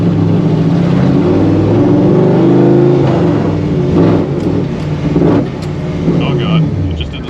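A 1955 Chevy Nomad gasser with a stick shift idles roughly and revs unevenly before dying, the loud engine rumbling, surging and dropping away with brief clunks.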